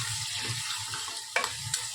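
Spice masala of turmeric, asafoetida, red chili powder and chopped green chili roasting in a pan, with a steady close sizzle and repeated spoon scrapes, plus two sharper clinks near the end.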